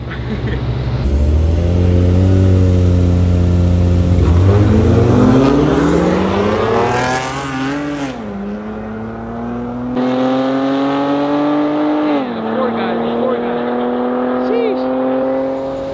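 Cars at a street racing takeover, including a 750 hp supercharged GT, rev and accelerate hard with rising engine pitch and a brief tire squeal. The engines are loud and close and run continuously under people talking nearby.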